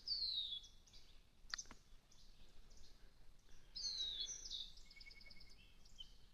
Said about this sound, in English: I don't know if you guys can pick up the birds that are flying off